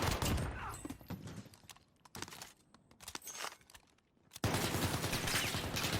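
Gunfire from the Warzone battle royale: rapid bursts of close, loud shots that break off, sparse gameplay noise follows, then a dense, sustained roar of shooting resumes at the end.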